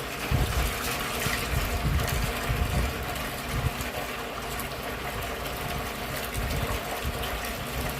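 Water gushes steadily out of an old wringer washing machine as it drains, a loud, continuous rushing splash that barely changes from start to finish, with no voices.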